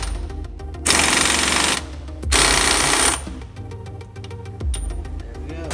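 An impact gun loosens the body mount bolts on a Jeep Wrangler JL, firing in two loud, close sustained bursts of hammering rattle, followed by a quieter, shorter buzz.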